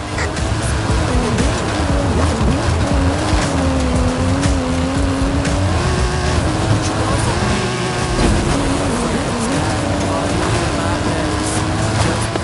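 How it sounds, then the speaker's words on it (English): Custom-engined stunt car in the Forza Horizon racing game roaring uphill, a steady loud engine drone with shifting pitch and tire squeal throughout. "Hammer it up the hill, kid. That stunt vehicle is a Mike Steel Special. Custom engine and suspension"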